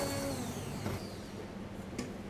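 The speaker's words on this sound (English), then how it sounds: "I'm just gonna use our little pan blender to get some nice aeration" A small hand blender whirs in a pan, aerating a butter and champagne sauce with seasoning for sea bass, a steady soft motor drone with a faint liquid churn that varies slightly in pitch.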